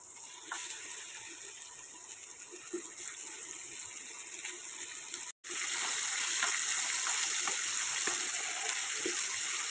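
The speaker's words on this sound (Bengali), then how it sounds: "এবার আমি এক এক করে চিকেনগুলোকে ভেজে নেব" Chicken pieces fry in hot oil, giving a steady, dense hiss and sizzle that runs throughout with only a brief dropout midway.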